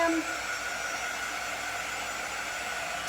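A hair dryer blows steadily and close by, drying a coat of chalk paint for a bee-themed background, its broadband whoosh constant and unbroken from start to finish.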